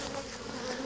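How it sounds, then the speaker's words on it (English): Honeybees stirred up inside a tightly packed hive box give a steady, dense buzzing drone, close and continuous through the brief moment. "there's some bees in that box."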